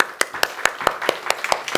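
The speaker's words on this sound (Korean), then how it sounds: "박수 한번 칩시다" A church congregation at a Sunday family worship service claps together in a quick, even rhythm, about nine sharp claps in under two seconds, close and loud with no talking over it.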